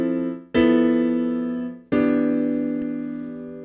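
Jazz piano plays two sustained drop 2 chord voicings with the root bass notes left out, each struck firmly and left ringing as it slowly decays, with no voices.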